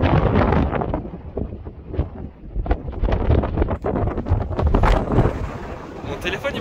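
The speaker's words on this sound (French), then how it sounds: "regarde, le vent de fou, c'est une dinguerie." Strong gusting wind buffets the microphone on a mountain pass, a loud continuous broadband roar rising and falling with the gusts, with a person talking over it.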